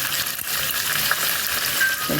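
A cinnamon stick sizzling briefly in hot oil in a pan while a Kannada horsegram curry is being made, giving a steady, close hiss with faint stirring clinks.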